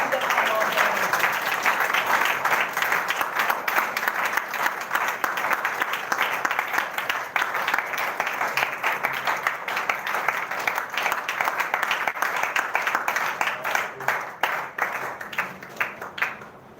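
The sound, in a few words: congregation applause in church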